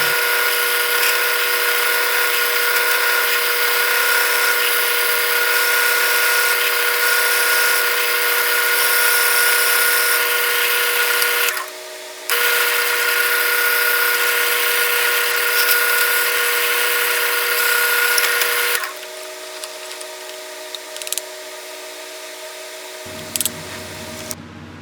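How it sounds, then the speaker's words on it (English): A drill whines steadily and loudly through a pen blank of black Alumilite for the barrel tube, pausing briefly midway, then spinning down to a lower hum with a few small knocks near the end. "Now I'm going to drill and insert the tube"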